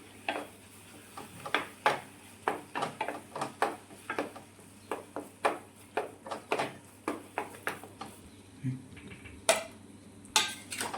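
A spoon stirs wheat flour sheera in a pan with the gas off, giving a regular series of scraping clinks against the metal, each stroke distinct and close at a fairly even pace.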